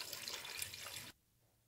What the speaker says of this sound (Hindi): अब हमने इसमें डाला है 2 लीटर पानी